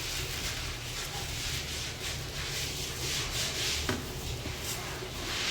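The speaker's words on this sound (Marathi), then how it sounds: "मिरच्या थोड्या हाताने आपण कुचकरून घेऊया" Green chillies are crushed and rubbed by hand, giving a continuous close, dry rubbing and rustling that stays fairly even throughout, with one small click near the end.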